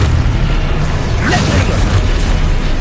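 A spell blast from the Hogwarts Legacy video game bursts out as a dense, loud boom with a sweeping whoosh near the middle, over constant rumbling low-end noise and game effects, with no clear pauses.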